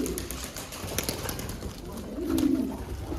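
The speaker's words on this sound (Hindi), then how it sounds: "काफ़ी सारे कबूतर नए आए हैं इसमें" Cooing from a loft of domestic pigeons, including newly arrived birds, low murmuring calls rising more clearly toward the end over a steady hum, with no talking.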